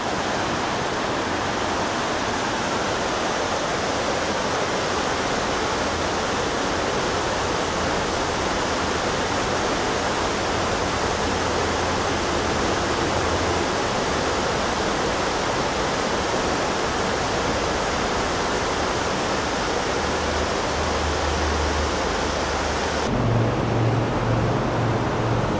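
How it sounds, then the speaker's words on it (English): A river in the Shasta area rushes loudly and steadily, a dense, unbroken roar of flowing water close by with no voices. "But this is the river. It's gorgeous right here."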